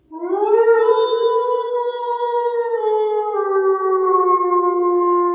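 A single long, rising then sustained howl, loud and clear, with smooth tonal harmonics and a slight downward step near the end, heard alone.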